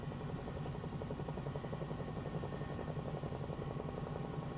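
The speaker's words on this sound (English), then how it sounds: "not your average takeoff. You wouldn't do that in a helicopter." A Bell 222B helicopter in Microsoft Flight Simulator 2024 powers up for takeoff, its steady rotor thrum and turbine whine loud and continuous with no talk.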